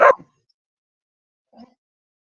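A single dog gives a short bark close by, followed after a pause of over a second by a fainter, briefer yelp, with no talk in between.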